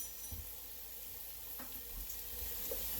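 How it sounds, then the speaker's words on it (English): About two tablespoons of garlic frying in a pot as the base of a spicy red lentil soup, giving a steady quiet sizzle with faint stirring scrapes and no voices. "So now is the time we're going to add our garlic. We want to cook our garlic a little bit"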